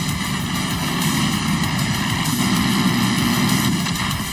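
Propeller plane engine droning steadily in Far Cry 5 while flying, a loud continuous hum with a dense low roar that holds throughout.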